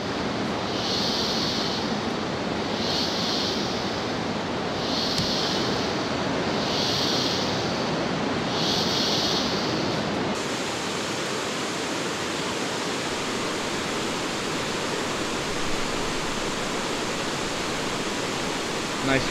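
La Fortuna waterfall in Costa Rica roars as a loud, steady wash of falling water, a dense unbroken rush heard up close for the whole stretch.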